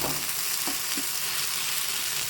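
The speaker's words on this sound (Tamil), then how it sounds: "வெண்டைக்காய் நல்லா வதங்கிடுச்சு." Okra sizzles steadily while frying in a pan as a stir-fry is prepared, with a continuous close hiss and a few soft scraping stirs breaking through.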